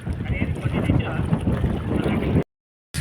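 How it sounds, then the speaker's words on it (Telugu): Strong wind buffets the microphone while waves wash around a small fishing boat at sea, a loud, steady roar that cuts out briefly near the end, with a voice faintly under it. "అలలు ఎక్కువైనాయి, గాలి ఎక్కువైంది."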